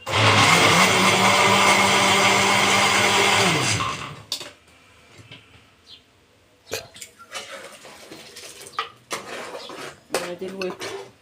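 Electric blender whirring loudly as it purees okra with broth, a steady high-pitched motor drone for about four seconds that stops abruptly, followed by scattered clinks and knocks of the jar and utensils.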